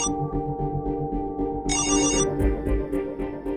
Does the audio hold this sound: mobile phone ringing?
yes